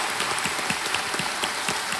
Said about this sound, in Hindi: तालियों के साथ आपका अभिनंदन